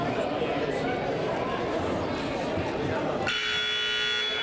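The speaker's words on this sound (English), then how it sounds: "there's the warning buzzer." A loud, sustained warning buzzer cuts in abruptly near the end of a basketball timeout in a school gym, after seconds of crowd chatter and voices.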